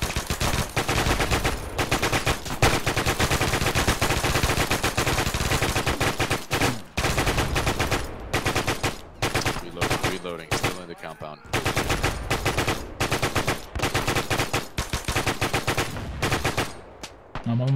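Sustained automatic gunfire in Arma 3, a military shooter, with rapid bursts firing nearly nonstop, loud and close, broken by a few short pauses.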